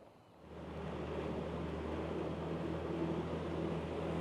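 A bass fishing boat idles on Florida's Harris Chain of lakes, a low, steady engine rumble that swells in after a brief quiet start and holds evenly under soft wind and water wash.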